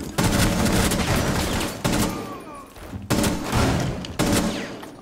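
Rapid R4-C rifle fire from Rainbow Six Siege comes in loud, sustained automatic bursts, broken by short gaps, and stays close and dense across the whole stretch.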